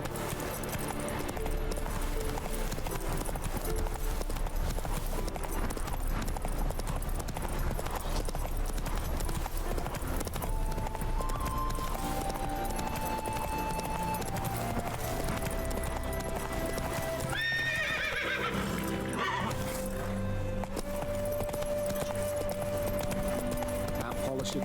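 Roach the horse from The Witcher 3 trots along with a steady clip-clop of hooves, set against a game music score and occasional spoken lines, with a possible brief whinny.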